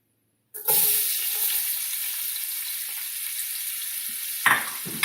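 Chopped onions hit a hot pan with a sudden, loud, steady sizzle after a moment of silence. The hiss holds strong throughout, with a brief stirring clatter near the end.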